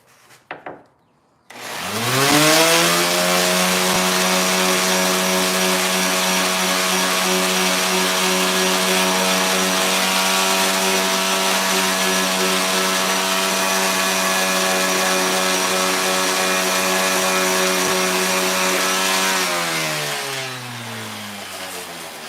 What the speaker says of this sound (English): we're going to start getting into the little bit more subdued sanding